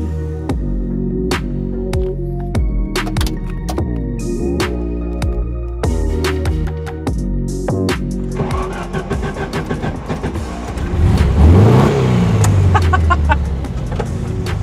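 A classic 40 horsepower VW Beetle drives along a road, its engine droning steadily and close, then rising in pitch and growing louder as it accelerates near the end.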